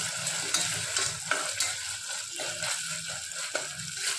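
Ginger garlic paste sautéing in a pan, a dense steady sizzle with soft periodic stirring scrapes running under it throughout.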